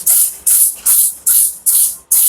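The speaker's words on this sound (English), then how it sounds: "I need to spray it right there." Cleaner sprayed in a bathroom, six sharp trigger-bottle bursts of hissing mist in a steady rhythm, each about a third of a second with short gaps, close and loud.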